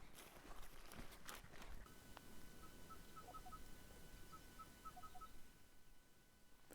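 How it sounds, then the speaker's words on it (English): A crested bellbird calls from a distance in the bush, a faint series of evenly spaced clear notes in two short runs over low background rumble. "Crested bellbird."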